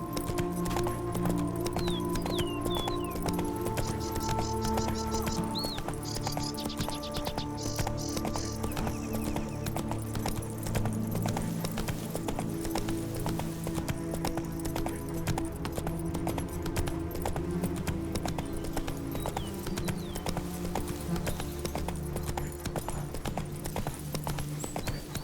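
A horse trots in The Witcher 3 with a steady, rapid clip-clop of hooves, loud and continuous throughout, over game ambience and a faint musical score.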